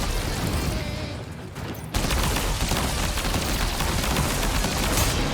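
Ranged weapon gunfire in the video game Death Stranding 2, a loud sustained burst of rapid shots filling the scene, briefly dipping before resuming at full intensity.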